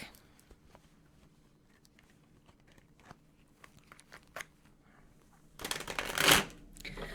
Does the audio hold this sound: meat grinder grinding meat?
no